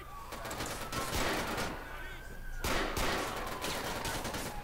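Dense bursts of gunfire crackle almost continuously through a shootout in the GTA police mod LCPDFR, with rapid automatic volleys and a faint siren tone, while someone talks over the action.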